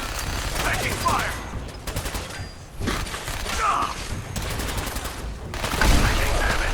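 Bursts of gunfire in the video game Fallout 4, rapid volleys of shots recurring over several seconds at close range, with voices calling out between and over the shooting.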